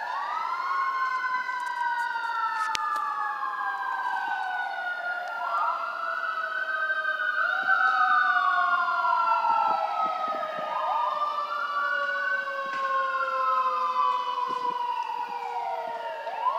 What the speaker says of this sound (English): That's the fire truck and the paramedics.